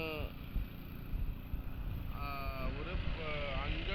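A fishing boat moves across the water, its engine droning steadily under buffeting wind, with a few wavering tonal sweeps rising and falling.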